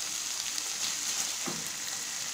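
Kofta fries in a pan with a soft, continuous sizzle and a brief stir or scrape partway through. No voices.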